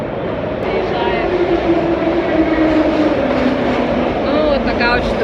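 A Tbilisi metro train pulls into an underground station with a loud, steady roar and rumble, rhythmic wheel clatter and faint squeals, heard close on the platform.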